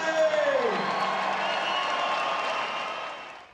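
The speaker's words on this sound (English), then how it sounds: "Round of applause for the one and only Nathan Cleverly." Boxing arena crowd applauding and cheering for fighter Nathan Cleverly after a Kovalev bout, a dense sustained roar of clapping and shouts that stays loud and slowly fades toward the end.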